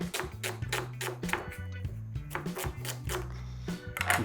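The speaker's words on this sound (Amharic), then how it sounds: "አንድ ራስ ቀይ ሽንኩርት በቀጭኑ ከትፍና" A knife thinly slicing red onion on a board, steady rapid chopping taps in an even rhythm, close and fairly clear, with no talk.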